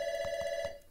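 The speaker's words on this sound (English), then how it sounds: "phone's going off in the background there" A telephone rings in a rapid warbling electronic trill that stops abruptly near the end, fairly clear and alone with no talking.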